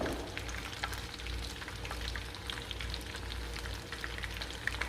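Food fries in a pan with coconut, giving a steady close sizzle with scattered crackles and pops throughout, with no talking.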